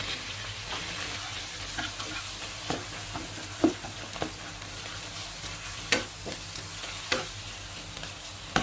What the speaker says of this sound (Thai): ใส่ปลาหมึกลงไปผัดต่อเลยครับ แล้วก็ตามด้วยกุ้งครับ